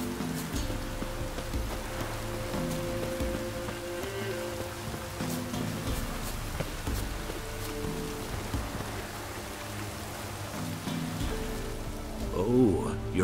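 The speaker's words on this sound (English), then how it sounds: "Looks like rain." Rain falls in the video game The Witcher 3, a steady pattering wash under faint ambient music-like tones, with a brief voice near the end.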